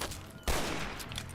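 Burst of gunfire in Fallout 3 and New Vegas, one sharp loud blast that rings on briefly, heard alone.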